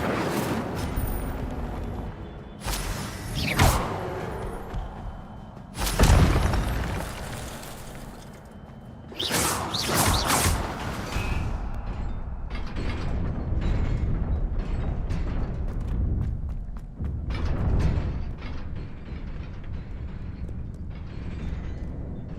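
Fire spell effects cast in a Harry Potter video game: several loud whooshing, crackling blasts at intervals over a continuous rumbling background of game noise.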